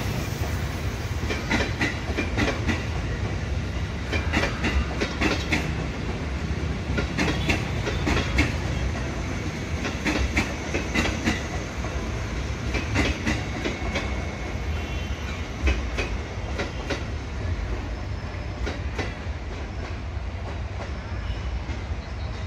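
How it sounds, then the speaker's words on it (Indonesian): A KRL Commuter Line electric train pulls into Jatinegara station, a steady, loud rumble of wheels with rhythmic clickety-clack over rail joints continuing throughout with no talk. "Kereta KRL Komuter Line ini akan masuk di jalur 2"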